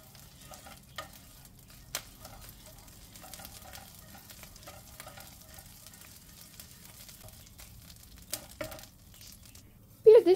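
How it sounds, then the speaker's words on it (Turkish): Tomato and pepper paste sautés in a pan, a faint low sizzle under scattered spoon scrapes and clicks, ending in a louder clatter. "Salçayı 1-2 dakika kavuruyorum."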